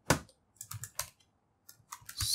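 Typing on a computer keyboard, with irregular bursts of crisp key clicks separated by short pauses, close and fairly quiet.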